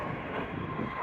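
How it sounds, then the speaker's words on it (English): A noisy aeroplane flies overhead near a fruit nursery, giving a steady, broad engine roar that fills the whole short moment with no voices. "They're just noisy aeroplanes."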